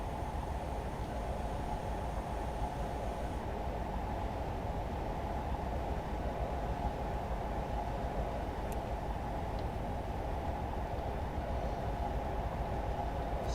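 A shaky train riding along the rails, a steady loud rumble and rattle of wheels and carriage continuing without a break, with faint brief clicks.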